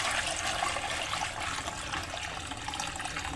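Stored tap water poured into a guppy breeding tank: continuous splashing and gurgling of liquid, fairly loud and close, running steadily throughout with a slight drop in level midway.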